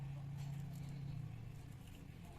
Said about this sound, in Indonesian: Itu si stepper motornya menarik kembali pakaian ke dalam rumah.